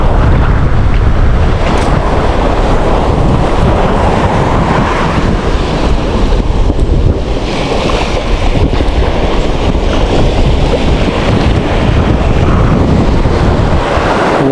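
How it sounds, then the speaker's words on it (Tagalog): Loud, continuous rushing of water and wind buffeting the microphone, with heavy surges as waves slap against a moving fishing boat during the southwest monsoon. "Hinampas tayo ng alon."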